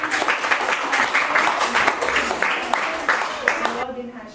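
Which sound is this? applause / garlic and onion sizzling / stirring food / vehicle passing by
applause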